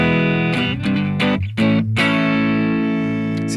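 Electric guitar played through a BOSS GT-1000 Core on a medium-gain amp setting: a run of crunchy, distorted chords and single notes, then a long ringing chord sustaining and slowly decaying, close and loud with no talking.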